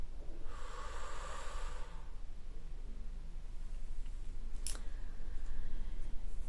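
A single long, breathy exhale during a guided French meditation breathing exercise, soft and airy, rising and fading over about a second and a half, followed by quiet room tone and a faint click.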